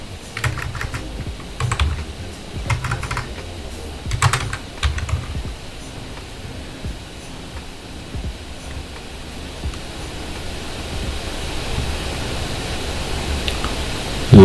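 Computer keyboard typing in irregular bursts of clicks, clustered early and then thinning out, close and moderately loud over a steady background hiss.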